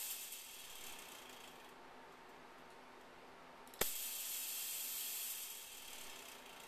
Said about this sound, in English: you've got control over the fog machine that'll burst at different intervals